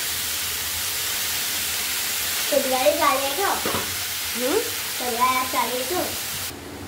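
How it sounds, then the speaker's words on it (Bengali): Fatty Medinipur meat cooks in a little oil, giving a steady background sizzle. Tonal squeaking or scraping bursts come in two short clusters midway, likely a spatula or pot lid, and the sizzle cuts off abruptly at the end. "দেখো আমাদের রডাইল মাংস রান্না করছি"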